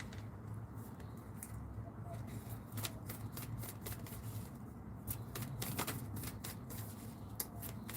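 Guidance cards for a reading are shuffled in repeated quick, crisp riffling bursts, close and fairly quiet, with soft handling rustle between the shuffles.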